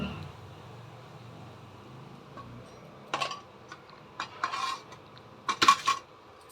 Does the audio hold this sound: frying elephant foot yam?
yes